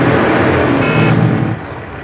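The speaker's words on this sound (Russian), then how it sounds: "Вот показываю, что работает горный тормоз." A Detroit 12.7 diesel truck engine, newly swapped in, revs steadily with the engine brake engaged, a loud, close, continuous low drone that drops in level near the end.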